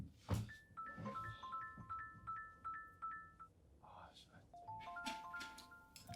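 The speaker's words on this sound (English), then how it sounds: "Answer the phone." A phone rings with a repeating electronic melodic tone in short, steady bursts, moderately loud, with people talking over and between the rings.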